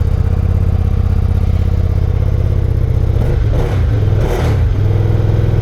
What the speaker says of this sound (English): It's surprisingly louder than I thought for a stock bike.